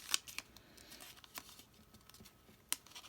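Paper is folded and creased for an origami flapping bird, giving a few sharp, close crinkles and soft rustles spaced out over a quiet background.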